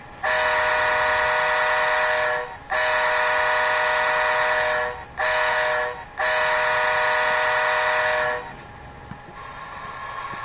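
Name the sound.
model train locomotive whistle sound from DCC decoder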